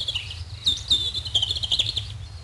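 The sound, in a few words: robin singing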